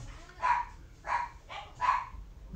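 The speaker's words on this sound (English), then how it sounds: "My killer dogs again." Dogs bark in four separate, evenly spaced bursts, each a sharp mid-pitched bark with a short tail, coming from a moderate distance over a quiet room with no talk.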